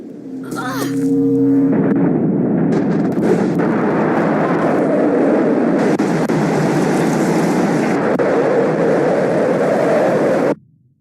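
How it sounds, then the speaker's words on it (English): Passing train in Life Is Strange: a loud horn blast opens, then a heavy, sustained roar and rumble of the train rushing by close, cutting off abruptly at the end. "What's that noise? The train."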